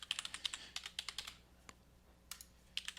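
Typing on a computer keyboard, quick bursts of light close key clicks with a short pause in the middle before a few more taps, quiet and without talk.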